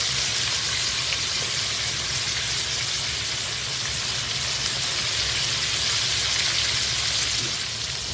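Fish fries in hot oil with a steady, dense sizzle and crackle that runs unbroken for about eight seconds, loud and close, with no talk over it.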